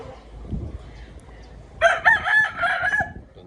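A Hatch Grey gamefowl rooster crows once in a backyard game farm, a loud, clear call of about a second and a half with a rising start and held, wavering tail, set against quiet outdoor background.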